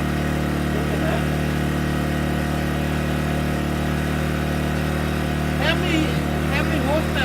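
A Gentrax EC800i 800W inverter generator running at a steady even hum, constant and fairly loud throughout, while people talk briefly nearby.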